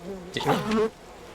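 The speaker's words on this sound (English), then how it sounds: "Goddamn bees" A swarm of bees buzzes close by in the video game We Happy Few, a short burst of insect droning that swells and fades within about a second.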